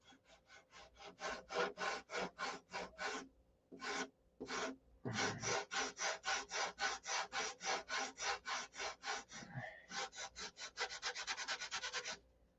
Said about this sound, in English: You want to put your sanding block in the angle of the covering